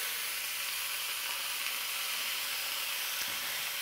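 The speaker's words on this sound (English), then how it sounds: "I'm gonna add my eggs now." Eggs cracked into a wok of hot oil for a Thai pad mama noodle stir-fry give a steady, dense hissing sizzle, close and unbroken, with no talk over it.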